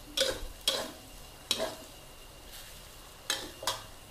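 Pork with garlic, sugar and egg is stir-fried in a pan, with about six rhythmic spatula scrapes and tosses over a low, steady sizzle and no speech.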